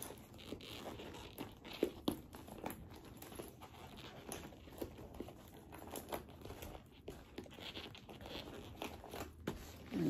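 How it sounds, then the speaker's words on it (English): Keys dropped into a handbag from AliExpress, giving faint crinkling, rustling and small clinks in irregular bursts, fairly quiet and close, with no talk. "So I'm gonna put my keys right in here."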